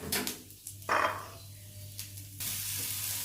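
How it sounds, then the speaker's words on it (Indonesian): Lokyo, the Batak shallots, dry-roasting in a pan give a soft continuous sizzle with light stirring scrapes, close and fairly quiet. "Ini lagi sangrai lokyonya, bawang bataknya."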